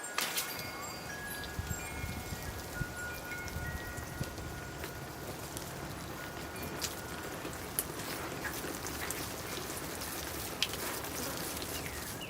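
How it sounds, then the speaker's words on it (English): Water spray rinsing a Serissa bonsai tree, a steady, dense patter and hiss like rain that runs unbroken and fairly soft throughout, with a few sharper drips. "here I go with the rinse cycle"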